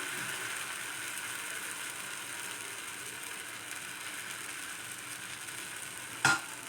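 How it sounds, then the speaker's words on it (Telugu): Wheat flour dosa batter sizzling steadily on a hot pan, a close, even hiss that carries on throughout, with one sharp metallic clink near the end. "దోశ బ్యాటర్ వేసుకోవాలి దీన్ని ఈవెన్గా స్ప్రెడ్ చేసుకోవాలి"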